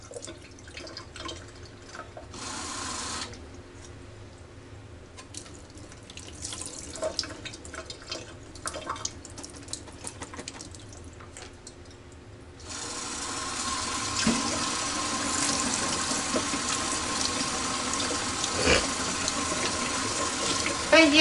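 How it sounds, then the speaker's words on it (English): Tap water runs steadily into a pot of rice being rinsed for freezer taco rice, first softer, then louder and fuller as the flow strengthens, with the stream splashing and draining in a kitchen sink. "Put water in it. Drain it off."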